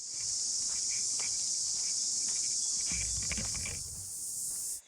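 A dense, high-pitched drone of cicadas fills a forest at Blue Lake Tikitapu, New Zealand, constant and loud, with some birds, a few soft rustles and footsteps underneath.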